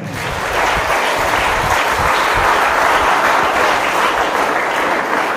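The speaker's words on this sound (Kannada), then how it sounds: "ಒಂದು ಜೋರಾದ ಚಪ್ಪಾಳೆ." Loud, sustained applause from a congregation at a church gathering, dense and steady from start to finish with no break.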